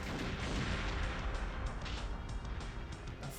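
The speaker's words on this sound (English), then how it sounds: "Just listen to the sound effect on this gun, by the way." An assault rifle with a grenade launcher in the Nintendo 64 game Perfect Dark fires steadily, a dense, continuous rumbling blast of gunfire that holds at even loudness for a few seconds before easing slightly at the end.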